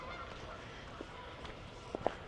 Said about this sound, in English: Lots of geese fighting right now.